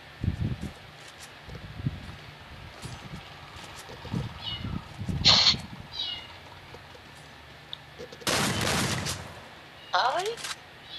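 A cat meows briefly inside a solo and duo online shooter match, a short high cry among scattered bursts of gunfire and rustling, with a player talking over much of it.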